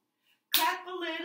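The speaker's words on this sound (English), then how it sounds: "Clap a little, clap, clap, clap." Hands clapping during a children's storytime rhyme, a sharp burst of claps that then blends into a sung child-like voice carrying on underneath.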